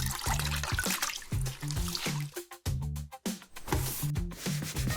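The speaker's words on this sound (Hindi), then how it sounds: "ये लो बाल्टी, कपड़े को साफ करो।" A cloth is scrubbed clean with water from a bucket, giving rhythmic wet rubbing strokes in steady bursts, broken by a few short pauses and a trickle of water.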